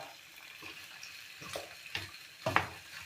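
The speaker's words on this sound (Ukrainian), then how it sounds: "Зараз все разом пересмажу." Cabbage crackles and sizzles faintly in a pan, with a few louder stirring scrapes and pops near the end.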